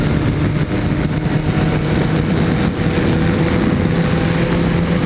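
A Kawasaki Ninja ZX14R cruising at steady highway speed: a constant engine drone blended with heavy wind rush, even and unbroken, close to the rider with no talking.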